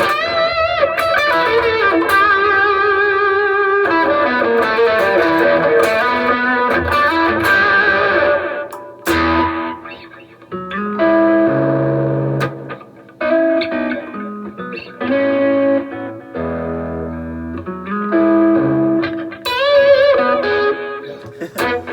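Electric guitar through a Fender Pugilist distortion pedal with a saturated, distorted tone and washes of delay and reverb, playing sustained chords and then choppier phrases.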